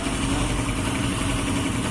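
Kawasaki KLX motorcycle with a battery-drain fault, its engine running in a steady, loud, close drone at a constant pace with no talking.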